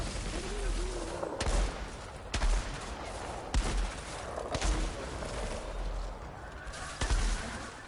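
Gunfire in a first-person video game shooter cracks out as about seven sharp single shots at uneven intervals, each a sudden loud report over a constant low background of game noise.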